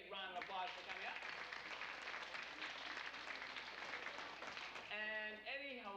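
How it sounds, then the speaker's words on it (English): An audience at a magic show applauds a five-year-old volunteer who has come up on stage. The clapping is full and sustained, and a voice speaks at the start and again near the end. "let's give Eddie a big round of applause for coming up"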